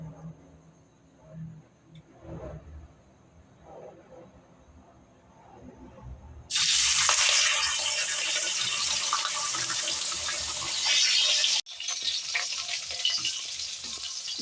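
Fish dropped into hot oil in a wok for a Bengali fish tok (sour fish curry) starts a loud, broad sizzling crackle that begins abruptly partway through after quieter kitchen sounds, then holds steady, briefly dropping out and resuming.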